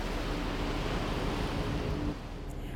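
Ocean surf on the coral atoll of Aldabra washes in as a continuous broadband roar, loud and close, with wind noise and no voices.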